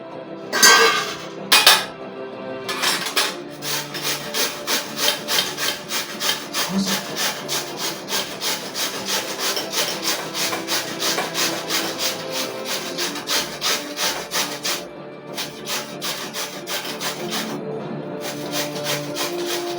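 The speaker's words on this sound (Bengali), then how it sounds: "আলুগুলো আমি গ্রেটারে ঘষে নেবো।" One and a half potatoes are rubbed against a metal grater in steady, rhythmic rasping strokes, close and fairly loud, repeating about twice a second with a couple of brief pauses.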